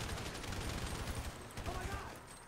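Rapid automatic gunfire in GTA 5 during a zombie shootout, a dense stream of close, loud shots running through the whole short stretch over game ambience.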